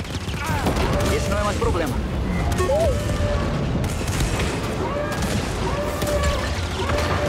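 Blaster gunfire in Star Wars Jedi: Fallen Order during a battle on Kashyyyk, repeated booming shots and zaps in a dense, loud barrage with someone talking over it.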